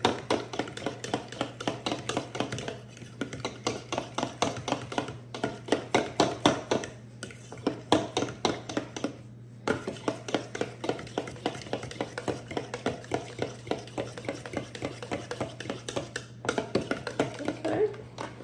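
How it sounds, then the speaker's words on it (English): Fork whisking ingredients together in a bowl for chicken fingers, a rapid steady run of light metallic taps and clicks against the bowl with brief pauses, close and moderately loud. "you can use a whisk if you like, but I'm just going to use a fork"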